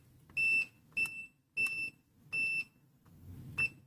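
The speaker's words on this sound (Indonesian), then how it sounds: "Di sini kita bisa pakai buzzer saja ya." A multimeter's continuity buzzer sounds while probing the pins of an ATX power supply, model EST7502C: five short high-pitched beeps at irregular intervals, fairly quiet with faint handling noise between them.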